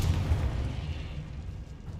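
A Confringo fire spell bursts in the video game Hogwarts Legacy, giving a loud, dense low boom that rumbles steadily for about two seconds without fading.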